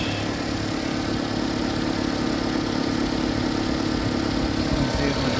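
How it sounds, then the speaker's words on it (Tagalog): A Toyota Prius petrol engine running to charge the hybrid battery produces a steady, dense mid-range hum with constant vibration, loud and close throughout. "now the engine turned on"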